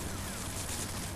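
Gunfire in the video game James Bond 007: Nightfire, a dense burst of shots filling a short moment with a loud, noisy wash.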